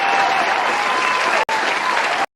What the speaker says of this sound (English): I don't know where this applause coming from.